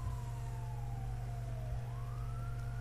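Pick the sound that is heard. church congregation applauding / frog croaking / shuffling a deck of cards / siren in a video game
siren in a video game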